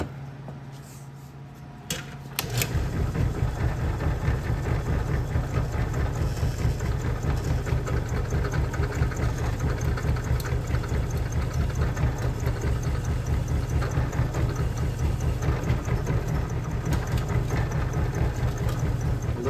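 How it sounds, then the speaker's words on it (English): A power drill runs continuously after a short pause, drilling into a vehicle fresh air vent door, with a steady buzzing motor and rattling, close and fairly loud. "let's get the drill"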